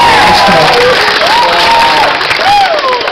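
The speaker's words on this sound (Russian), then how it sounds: "Громче аплодисменты, народ, вы чё?" An audience at a contest greets the participants with loud, continuous crowd noise of applause and cheering, with whoops and shouts rising over a dense, steady wash of sound.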